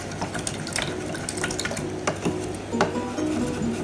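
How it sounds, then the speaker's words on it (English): An acrylic paintbrush is swished and rinsed in a water cup, producing light splashing and gentle clinks against the container, close up with no talking. "I'm gonna rinse this brush off now"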